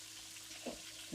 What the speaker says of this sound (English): See that frying?